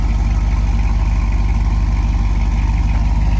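A cold motorhome engine idles with a steady, low, throbbing rumble, loud and close, holding an even pulse from start to finish without revving.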